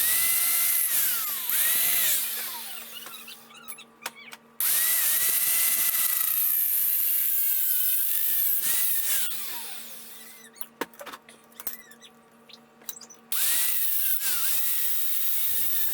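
A power tool, likely a grinder or cutter, cutting down 2x2 metal trailer brackets for a toy hauler build, whining loudly in long sustained runs broken by short pauses and rattling clatter, with no talking.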